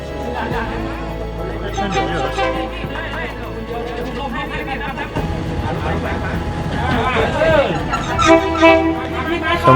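Train horn sounding as a train arrives at Maeklong market in Ratchaburi, Thailand, with horn tones rising toward the end over steady crowd chatter and engine rumble.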